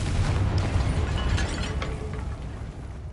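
A Confringo fire spell from Hogwarts Legacy detonates in a rumbling burst, with dense low-end energy, crackling mechanical clatter and a slowly fading roar over about three seconds, no voices present.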